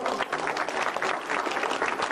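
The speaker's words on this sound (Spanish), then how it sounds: "Que se escuche el aplauso del público" A crowd claps steadily at a year-end Inocentes festival in Atuntaqui, a dense, even round of applause heard alone for about two seconds.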